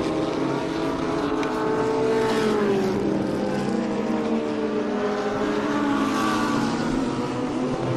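Two Porsche race cars accelerating up a hill at a raceway, a sustained loud engine roar with rising and falling rev tones overlapping throughout.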